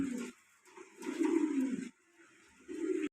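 Bombay pigeons coo at a pigeon farm, with several close, low throaty coos in bursts and short gaps between them.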